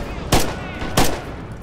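Two loud, sharp gunshots from a large-caliber weapon ring out in Red Orchestra 2, a World War II shooter set in June 1941, spaced about half a second apart and close up.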